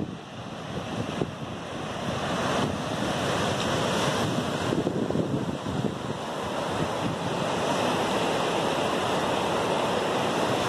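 Ocean waves break and wash steadily along the shore at Pantai Ngudel beach, mixed with gusting wind buffeting the microphone in a continuous loud roar.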